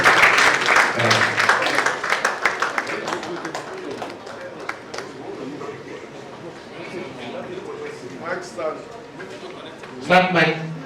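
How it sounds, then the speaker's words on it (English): Audience applause at a speaking event, scattered claps and cheering that swell early and return near the end, mostly under someone talking over a microphone. "Give her a good round of applause."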